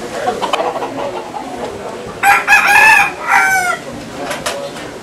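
A rooster being placed on a weighing scale crows once, loud and close, a drawn-out call in two bursts mid-clip over steady background noise.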